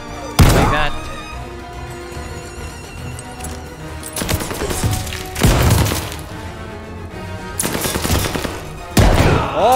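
Gunshots ring out in the WWII shooter Call of Duty: Vanguard at Stalingrad 1942. Loud, sharp bursts of rifle and machine-gun fire come in several separate volleys, each with a crisp crack and a short ringing tail, between quieter stretches of battle noise.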